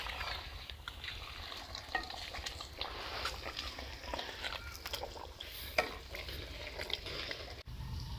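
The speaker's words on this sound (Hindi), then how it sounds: "मिक्स करते हैं, 20 मिनट वास्ते भुनाई करते हैं।" Food being stirred and roasted in a pan with coriander and black pepper, a steady sizzle broken by scraping and clinking utensil strokes throughout, close and moderately loud.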